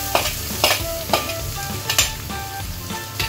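Ginger-garlic paste fries and stirs in a pan, a steady sizzle broken by repeated scraping strokes of a spoon at a loose, regular rhythm, close and clear with no talking.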